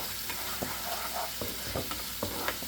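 Street-style mushroom masala with chilli sauce being mixed in a pan, a soft background sizzle under repeated spoon taps and scrapes at a steady, uneven rhythm.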